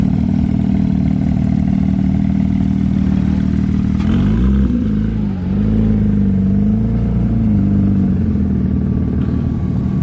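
A Porsche GT3 sports car idles loudly and steadily with a deep engine rumble at a car meet inside an abandoned warehouse, with a brief revving swell partway through.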